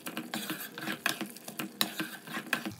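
Mutton liver and potatoes are stirred in a pan, giving a faint series of irregular scraping and clinking strokes of a utensil against the metal, with no voice.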